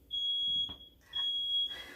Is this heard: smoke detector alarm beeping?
yes